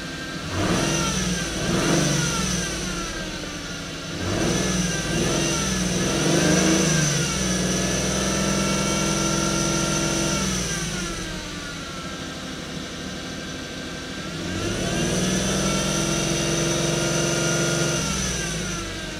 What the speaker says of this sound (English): Let's start her up, see if it does anything interesting or lets the magic smoke out. Just gonna rev it a little bit.